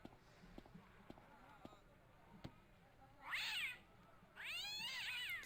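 A cat in the Broken Sword: Shadow of the Templars video game lets out two loud, drawn-out meows after a few soft clicks and taps, with quiet game ambience behind.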